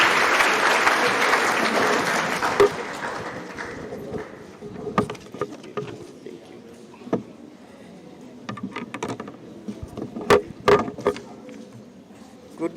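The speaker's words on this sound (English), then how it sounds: "With a round of applause, let us welcome Mr. William Chabu." Applause from an audience at an education seminar welcoming a keynote speaker, loud at first, then thinning into scattered, uneven claps and knocks with some background movement.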